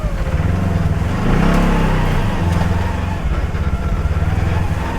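A truck's engine revs and drones steadily while drifting, the loud, close mechanical hum swelling once midway and holding through the whole stretch.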